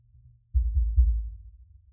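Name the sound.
kick drum isolated from a mix with a gate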